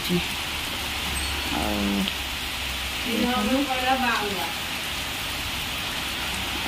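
Heavy rain in strong wind pours down as a dense, steady hiss, with a person speaking over it in the middle.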